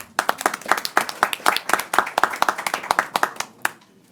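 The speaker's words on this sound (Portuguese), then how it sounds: "uma salva de palmas." Scattered applause from a small group at a council committee meeting in Rio de Janeiro, individual claps distinct and uneven in rhythm, fairly close and moderately loud, with no talk over it.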